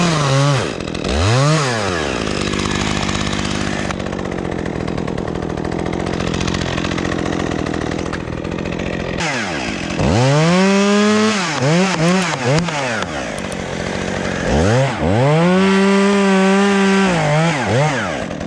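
A chainsaw cuts through a maple tree at the crotch during a tree removal in Louisville, Kentucky. The close, loud engine revs up and down repeatedly, rising and falling in pitch around a steady cutting roar.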